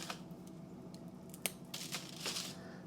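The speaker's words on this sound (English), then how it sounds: "See how they just crumple up?" Dried cranberries being squeezed by hand give soft, close crinkling and crackling sounds, with a few brief sharper snaps among quiet rustles.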